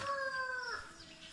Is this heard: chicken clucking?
yes